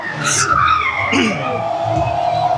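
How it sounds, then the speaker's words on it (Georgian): Race cars in a racing event, with tires squealing loudly as a car skids and engines roaring close by; a voice can also be heard faintly. "ნახე, ნახე რა მაგარი ავარია"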